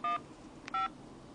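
Two short electronic keypad beeps from a Samsung Trance phone on Verizon sound as a number is dialed, each a brief dual-tone chirp separated by a pause, clear and close with no talking.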